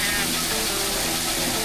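Water sprays in a steady, close rushing hiss while washing potatoes in a washer, unbroken throughout, with a low mechanical rumble underneath.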